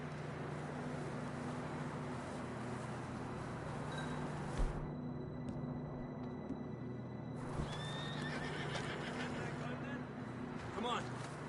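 Horses in the Red Dead Redemption 2 video game whinny and snort over clip-clopping hooves, with outdoor game ambience behind them and a character speaking.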